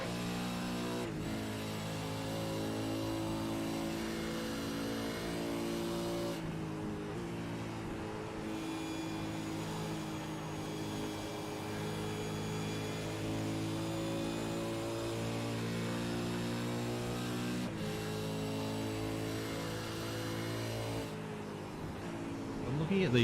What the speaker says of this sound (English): let's have another listen to Troy Davison do a lap around Nashville